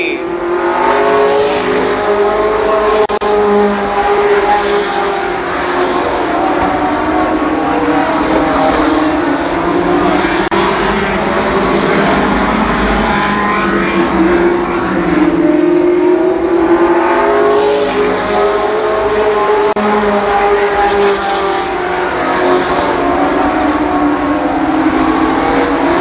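Race cars roaring around an oval at Columbus Motor Speedway, a loud, continuous engine drone with rising and falling pitch as the pack passes close by, no talk over it.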